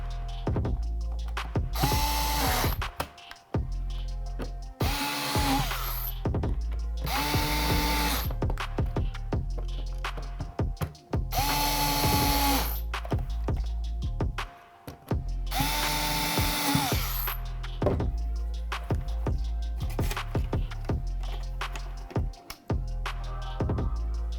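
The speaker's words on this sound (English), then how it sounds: "Take our electric screwdriver and get these in." An electric screwdriver drives small screws into a VHS tape shell in a series of about six whirring bursts, each rising then cutting off, with clicks and handling between them, close and loud.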